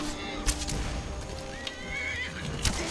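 A horse whinnies in Skyrim, a clear neigh with hoof clopping over game ambience.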